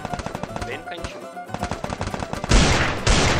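Rapid bursts of automatic gunfire in a shooter video game crackle loudly, with a dense sustained volley near the end, while a voice speaks over the shooting.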